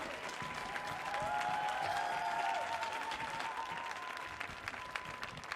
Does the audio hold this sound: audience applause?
yes